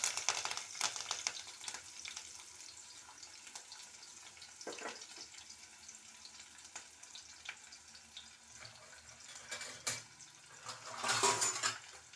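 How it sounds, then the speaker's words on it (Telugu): Onion and curry leaves fry in a pan for a tomato dish. A low, faint sizzle continues throughout, broken by occasional stirring scrapes and a louder clatter of utensils near the end. "ఆనియన్ కరివేపాకు కొద్దిగా వేగిన తర్వాత"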